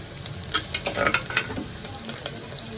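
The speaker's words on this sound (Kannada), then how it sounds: "ಒಂದು ನಿಮಿಷ ಸುಮ್ಮನೆ ಹಂಗೆ ತುಪ್ಪದಲ್ಲಿ ಬಾಡಿಸ್ಕೊಂಡು" Garlic sautéing in ghee in a pan for a baby-food spinach dish, a steady soft sizzle broken by repeated scraping stirs that come in quick irregular bursts, close and clear with no voices.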